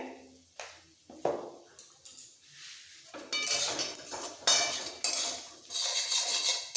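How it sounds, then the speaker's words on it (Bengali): Fried onion and poppy seed paste with a pinch of sugar is stirred in a pan: close, repeated scrapes and knocks of a metal spatula against the pan, followed by a louder, denser stretch of scraping and frying hiss. "এবার ঝুরঝুরে হওয়া পর্যন্ত আরও একটু নাড়াচাড়া দিয়ে নিতে হবে"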